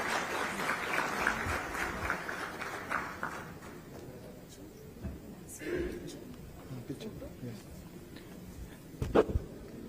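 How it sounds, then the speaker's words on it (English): Conference audience at a CII international event gives a round of applause, a burst of clapping that fades after a few seconds, followed by quieter room noise and scattered sounds. "A big round of applause"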